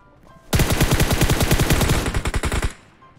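A single sustained automatic burst in the video game PUBG Mobile, fired at the floor, runs for about two seconds as a loud, rapid, evenly spaced string of around twenty shots that starts and stops sharply.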